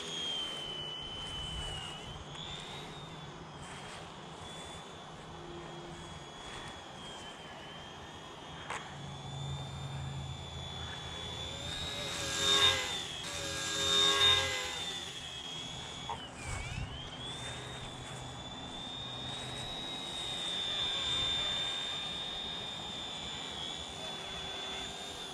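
A small ready-to-fly mini RC helicopter hovers and flies in the wind with a high, thin motor whine that rises and falls in pitch. Gusts and handling noises swell in the middle, and there is no talking.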